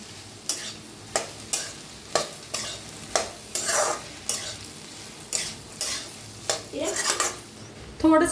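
Okra is stirred and fried in spice masala, with rhythmic spatula strokes scraping through the pan over a low sizzle and a metallic clink at the end.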